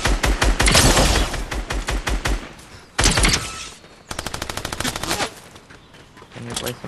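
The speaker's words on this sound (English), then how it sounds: "Gunshots again." Rapid automatic machine gun fire in the Fortnite video game, loud bursts of closely spaced shots with brief pauses between them, with no talking over the shooting.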